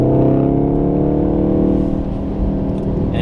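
A VW Golf R drones loudly at close range under trail braking into a corner at Wakefield track, its engine note steady and then falling slightly.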